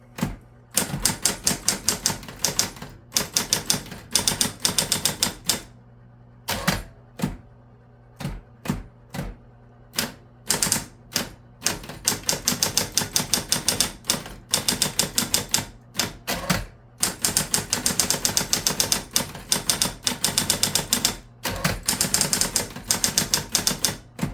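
A Smith Corona Coronet Super 12 electric typewriter clatters through rapid bursts of keystrokes, with brief pauses and carriage returns between runs, loud and close with no voices.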